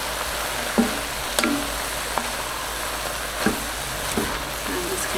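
Potato leek soup ingredients stirred in a pot, a few soft scraping spoon strokes at irregular intervals over a steady low sizzle, close and fairly quiet.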